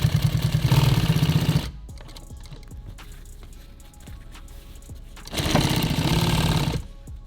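Sewing machine stitching nylon tactical gear, loud steady whirring bursts at the start and again near the end, with a quieter stretch of handling clicks and taps between them.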